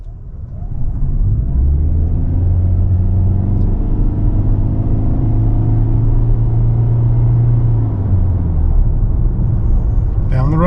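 A 2024 Toyota Corolla LE Hybrid AWD pulls away from a stop, a steady low engine and road rumble rising in pitch as the car gains speed, loud and continuous throughout.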